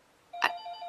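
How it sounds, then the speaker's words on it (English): A telephone rings once with a short, bright burst that is followed by a lingering steady tone. It is clear and fairly near, and no one speaks. "oh, that's my phone."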